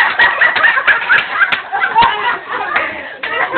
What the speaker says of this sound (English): the two mama hens down there got to figure out who's the boss.